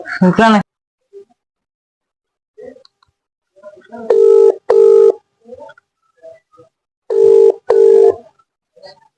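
A phone call being placed: a pair of short dialing tones, a pause, then another pair of ringback tones, with a voice speaking briefly at the start and near silence between.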